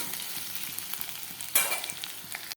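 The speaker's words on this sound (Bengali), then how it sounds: "ভাজা ভাজা করে নিই, এই তেলের মধ্যে আমি মাছটা করে ফেলবো" Fish sizzles steadily in hot oil, a continuous crackling hiss with a brief louder spit of spattering partway through, then it stops.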